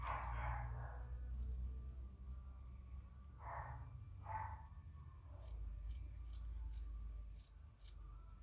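Scissors make a few soft snips while cutting out a Barbie doll clothes pattern for a tracksuit, followed by a quick run of light clicks, all faint against a low room hum.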